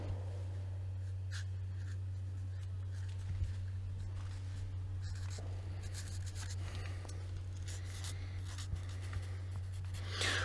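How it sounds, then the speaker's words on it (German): A marker or pen scratching a label onto a piece of tamarind wood, with faint intermittent rubbing strokes over a steady low hum throughout, close and quiet. "Ich schreibe mir da unten immer was dran."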